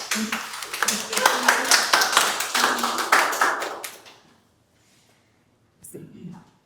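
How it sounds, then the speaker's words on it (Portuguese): Children clapping for a classmate in a classroom, a burst of quick claps over excited young voices for about four seconds, then a brief silence before more talk. "Muito bem, uma salva de palmas para o Marcel."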